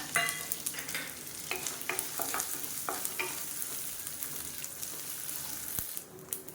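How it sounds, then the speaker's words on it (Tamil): Mustard seeds, curry leaves and dried red chillies frying in oil for a spicy chutney, sizzling steadily up close, with crackling pops and scraping stirs throughout. "இந்த ஸ்டேஜில் ஒரு கைப்பிடி அளவுக்கு கருவேப்பிலை சேர்த்துக்கலாம் இது கூடவே காரத்துக்கு தேவையான அளவு வரமிளகாய் சேர்த்துக்கலாம்"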